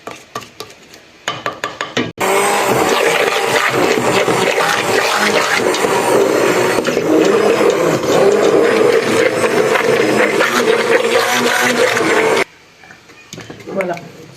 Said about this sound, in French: il faut mixer la pâte pour qu'elle perde toute son élasticité